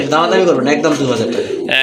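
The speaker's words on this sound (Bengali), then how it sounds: "বিগ সাইজ টপ লেভেলের একটা রাজগোটার নট কবুতর" A big top-grade Rajgota knot pigeon coos in soft, throaty, rolling notes close by, mixed with a person talking over it through the short clip.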